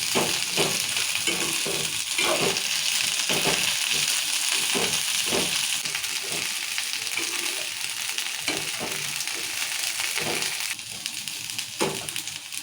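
Red chillies frying in oil for a tomato and red chilli pickle, a steady loud sizzle with repeated scraping stirs and clinks throughout, no talk.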